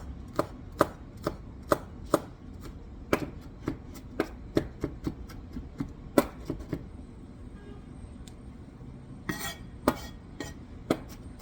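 A knife minces garlic on a cutting board in a quick run of sharp, close taps, then pauses before a few more scattered chops, quiet and alone.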